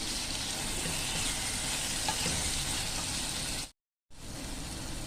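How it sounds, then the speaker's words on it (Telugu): Turmeric, spices and chopped tomato fry in a pan, giving a steady, loud broadband sizzle that fills the whole stretch, cut off by one brief moment of silence near the end before the frying resumes. "కొద్దిగా పసుపు, ఉప్పు వేసి ఇంకొద్దిసేపు వేగనియాలి."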